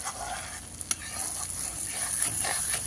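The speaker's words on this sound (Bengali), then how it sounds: "আলুর দম বানানোর জন্য যে মশলাটা দিয়েছি ওটা প্রায় কষানো প্রায় কমপ্লিট হয়ে গেছে" Spice paste for aloo dum sizzles and fries in mustard oil in a pan on a clay stove, a steady close crackle with occasional stirring scrapes.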